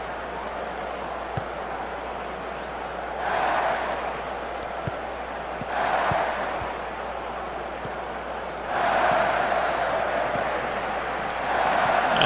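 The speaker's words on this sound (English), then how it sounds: "Looks like the fans are getting into it by cheering every completed pass." Crowd of football fans in Football Manager 2017 cheering in short swelling bursts every few seconds over a constant stadium murmur, moderately loud and with no talk.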